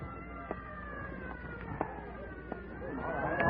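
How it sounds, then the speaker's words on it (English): An ambulance siren sounding in a radio drama, a wavering electronic wail heard at moderate distance under background bustle and growing louder toward the end. "Clear the way for the ambulance."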